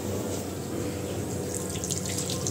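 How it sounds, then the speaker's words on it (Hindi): Tap water runs steadily into a sink as hands are washed before a meal at a gathering in Dubai, a continuous close splashing rush with no talk over it. "खाने से पहले थोड़ा बहुत हाथ धो लेते हैं।"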